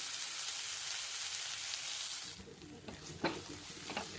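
Puffed rice with turmeric and spices sautéing in a pan for a Rayalaseema-style uggani breakfast: a steady dry sizzle and stir that drops to quieter scraping and light crackles partway through, close and alone.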